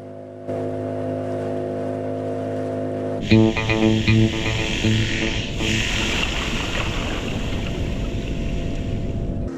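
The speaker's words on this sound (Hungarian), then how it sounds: "A motorcsónak arra megy, amerre én szeretném." A motorboat heading out toward the outer edge of a reef in fine weather, its engine droning with a steady tonal hum before the throttle opens and the sound grows into a louder, rougher roar mixed with rushing water and wind.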